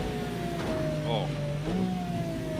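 A race car engine in a racing video game on a wet track, with a tonal whine that rises and falls through gear changes, moderately loud beneath someone talking.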